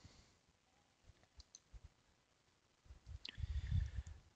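A few faint, sharp computer mouse clicks sound sparsely in a quiet room, followed by a louder burst of clicking and handling noise near the end.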